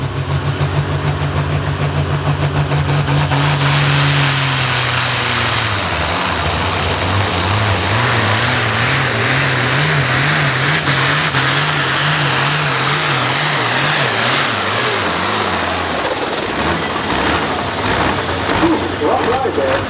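A tractor in the International class bellows through a pull, its heavy engine roar loud and sustained, rising and wavering in pitch as the load builds, with a commentator talking over it throughout.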